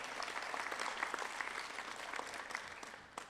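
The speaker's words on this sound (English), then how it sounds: "A round of applause for Dr." An audience at a hospital resident award and graduation ceremony applauds a doctor, with a sustained, even round of clapping from many hands that stays full and fairly close before tapering near the end.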